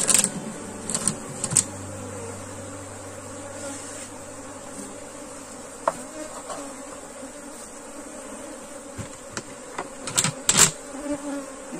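Bees hum in a steady, close drone at a beehive box fitted with wax foundation sheets while the hive is closed up, with occasional sharp wooden knocks and clicks over the buzzing.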